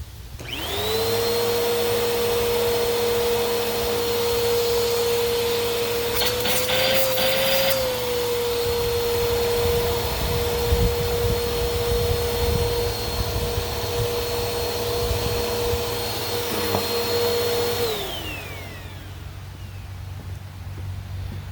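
A Bissell Powerforce 2191 upright vacuum cleaner, a restored curbside find, whirs up to speed and runs at a steady, loud drone with a high whine, then winds down near the end.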